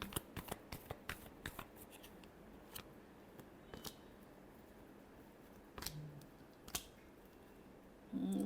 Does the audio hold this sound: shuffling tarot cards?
yes